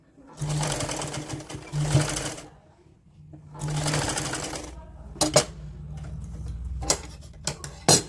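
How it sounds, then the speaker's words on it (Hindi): A sewing machine stitches a seam joining both sides of a border panel on a woollen night suit for a 3–4-year-old, running in two long bursts with pauses, then a few short clicks and taps. "दोनों साइड को मिलाकर हमने यहाँ एक सिलाई करनी है"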